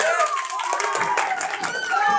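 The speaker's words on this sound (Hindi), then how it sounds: "दफा फिर जोरदार तालियां हो जाए।" Clapping from an audience at a children's Independence Day program, a lively mix of many hands close by, with voices and children's sounds running underneath.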